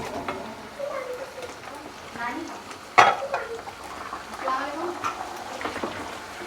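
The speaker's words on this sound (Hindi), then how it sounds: "ये देखें हमने चिकन डाल दिया है।" Chicken is dropped into a pot of oil for white pulao, with a sharp clatter and burst of sizzling hiss, followed by stirring scrapes and steady frying while a person talks.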